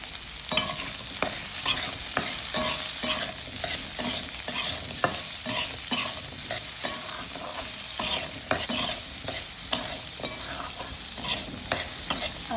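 Carrots stirred and frying in a pan, a steady sizzle broken by repeated scraping clicks of the spoon at an uneven rhythm, close and clear with no talking.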